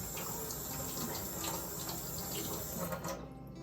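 Ripe, squishy Hachiya persimmons being rinsed under a running kitchen tap, a steady, soft hiss of flowing water with faint splashing that continues evenly and tapers slightly at the end, with no talking.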